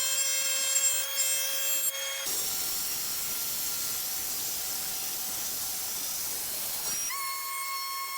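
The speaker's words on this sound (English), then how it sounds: "I mounted a dado stack and I'm going to cut a rabbet in the side panels to accept the back." A table saw fitted with a dado stack cuts a rabbet in maple plywood side panels: a steady, loud whirring hiss of the blade in wood, with the motor's hum heard before and after the cut.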